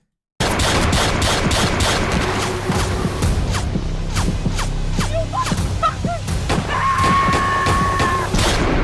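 Gunshots fired in broad daylight ring out as a series of sharp, loud cracks in steady succession, with a brief tonal whine and lingering background noise between shots.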